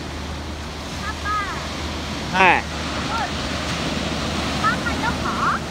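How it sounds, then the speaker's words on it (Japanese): Ocean surf rolls and breaks at Kamakura beach during a crowded Sunday surf session, a continuous wash of wave noise with wind, while people chat and call out nearby. "波が来だしました。"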